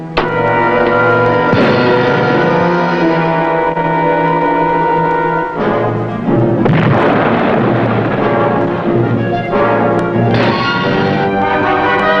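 Submarine torpedoes fired in a naval TV drama sound effect: a loud, steady droning tone runs throughout, broken by several heavy bursting rushes of launch noise.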